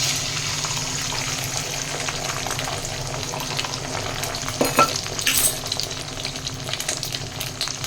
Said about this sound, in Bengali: ডিমটাকে আমি ভুজিয়া করে নেবো।